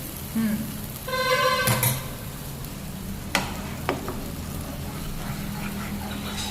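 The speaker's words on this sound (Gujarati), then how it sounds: "ગ્રેવી એડ કરી દીધી. અને તેલમાં મિક્સ કરી દીધી બધી." Gravy being stirred into hot oil for peri peri pasta, a steady low sizzle running throughout with a brief scraping stir and a couple of sharp utensil clicks, close up and fairly quiet with no talking.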